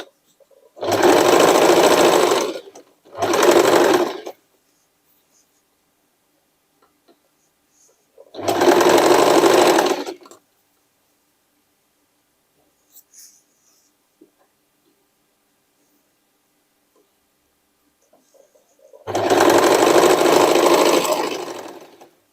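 A sewing machine stitches a denim jacket made from old jeans in four separate runs, each a loud, steady motor whir of one to two seconds with quiet gaps between them.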